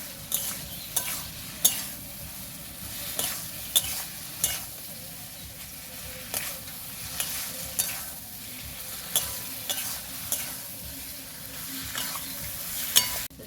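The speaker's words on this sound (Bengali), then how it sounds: "এভাবে যত নাড়াচাড়া করে ভালো করে কষে নেব" Potatoes and spices are stirred and fried in a pan for a rustic village-style Bengali mourala fish curry, a steady sizzle broken by repeated scraping stirs in a loose rhythm, close and moderately loud with no talking.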